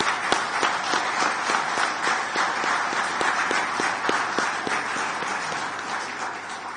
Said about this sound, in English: I would ask kindly if we could give him another round of applause for the work that he's done.